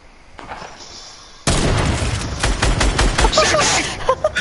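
Sniper rifle fire in a video game, a sharp loud report that erupts suddenly after a quiet stretch, followed by dense crackling shots and booms.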